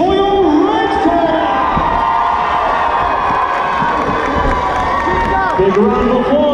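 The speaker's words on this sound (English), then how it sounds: "make some noise for your Red Cat" A large indoor crowd at an MMA event in Middlesbrough cheers, shouts and whoops loudly and continuously, with scattered shrill yells rising throughout.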